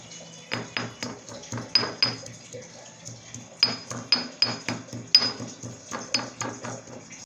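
Finely chopped ginger is crushed with a pestle, producing a series of sharp, rhythmic pounding strikes with a bright metallic ring, close-up, in short bursts separated by brief pauses, with no talking.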